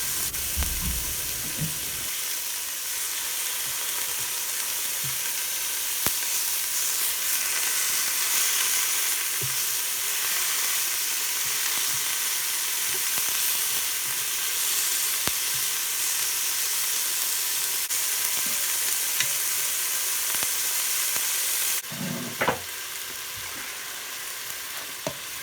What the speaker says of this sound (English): So now we're going to add in our beef cubes in small batches at a time just to get them nice and brown.